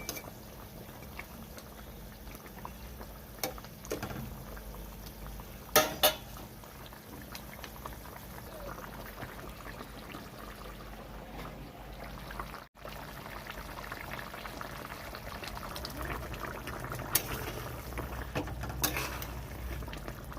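Fish curry with rohu, potato and pointed gourd bubbles steadily in a pot, a soft continuous boil with a few brief louder clinks or pours, no one talking.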